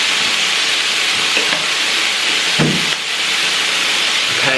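Loud, steady hiss of soy sauce sizzling in a hot pan of lo mein noodles, a continuous close frying roar with a couple of brief clinks.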